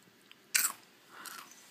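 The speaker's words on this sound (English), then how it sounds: "Oh, I just crunched your goldfish." A goldfish being crunched in a video game, two short crisp bites close up: a sharp crunch followed a moment later by a softer, longer chewing crunch, with no talking.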